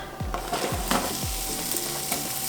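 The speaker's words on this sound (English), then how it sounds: "Just gonna put a little avocado oil in, and now I'm gonna start my onion." Onion frying in avocado oil in a pan, a constant close hiss and sizzle with a few soft bumps as the pieces are stirred, and no talking.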